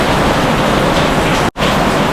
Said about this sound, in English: The rain's super noisy